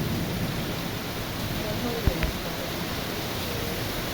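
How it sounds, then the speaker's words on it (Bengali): Rain falls at one in the morning in Dhaka, heard from a second-floor balcony as a constant dense hiss, with a brief thump partway through. "রহমতের বৃষ্টি রহমতের বৃষ্টি হ্যাঁ, রাত বাজে একটা আমরা দোতলা ব্যালকনি থেকে তুলতেছি"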